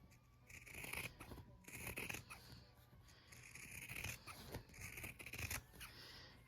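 Sharp repeated snipping of sewing scissors trimming fabric while boxing quilt corners at a sewing machine, crisp bursts in irregular rhythm, close and fairly quiet with light rustling between cuts.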